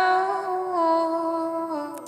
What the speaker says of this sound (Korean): 리버브를 거꾸로 뒤집으면은 이런 소리가 나요.